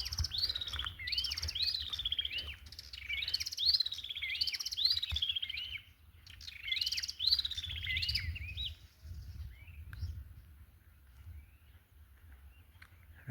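Birds in a Kenyan village chirp loudly in repeated bursts of close, bright tweets over the first nine seconds, then the calls give way to quieter background noise with faint footsteps.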